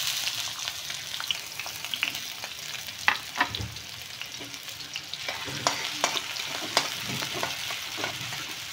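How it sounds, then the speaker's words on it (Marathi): Finely chopped onion sizzles in hot oil, a constant crackling fry with frequent spatula scrapes and taps against the pan, close and moderately loud, with no talking. "आता तेल चांगलं गरम झालेलं आहे। याच्यामध्ये कांदा टाकूयात।"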